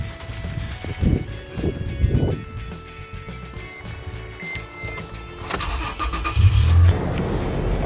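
A car engine cranks with power from a portable jump starter, a steady mechanical churn close by that grows louder and busier toward the end, with no voices.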